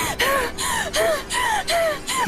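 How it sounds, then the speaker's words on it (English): Rapid, loud, close breathy gasps for air repeat five or six times in a strained rhythm, a horror-story effect of someone struggling while being choked. "She was gasping for air."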